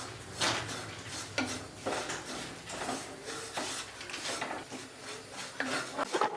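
Ground rice and grated coconut dry-roasting in a pan, with a steady scrape and rustle of stirring and a few louder knocks of the spoon against the pan. No one speaks.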